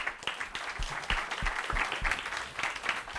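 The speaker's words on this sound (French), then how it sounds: "Merci, on peut applaudir la table ronde." An audience applauds a round-table panel at an agricultural skills event, with steady, dense clapping throughout and a faint murmur of voices underneath.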